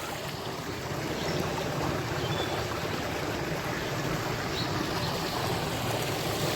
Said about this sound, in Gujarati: અહીંથી બીજું પાણી ચાલુ કરી દીધું.